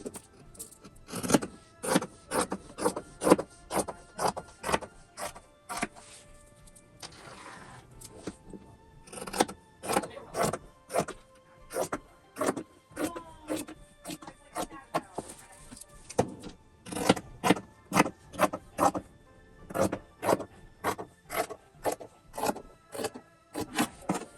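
Scissors cut a 16-inch square of 809 interfacing fabric in a quick, steady run of crisp, close snips with short pauses between bursts.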